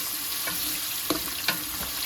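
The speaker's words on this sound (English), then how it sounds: "Can you hear the sizzle?" Steady sizzling of onions frying in hot oil, a constant crackling hiss with a few soft clinks and stirring sounds.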